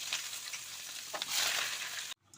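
Chopped onions hitting hot oil in a kadai for chicken curry, a bright crackling sizzle that swells briefly before cutting off abruptly.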